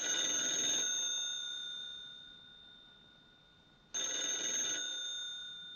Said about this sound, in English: Tell Max to answer the telephone.